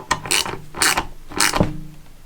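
Ratcheting clicks from a hand wrench tightening screws on a Ford 6.0 diesel FICM circuit board, three short bursts of close mechanical clatter with brief pauses between them, no talking.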